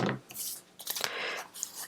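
Scissors snipping and trimming a cut piece during a craft project making mini covered composition books, several crisp cutting strokes close by with light rustling between them.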